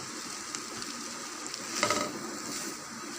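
Chopped boiled eggs tipped into chicken and vegetable spring roll stuffing and mixed in a pan, a steady soft sizzle with a brief louder burst of stirring partway through, no talking.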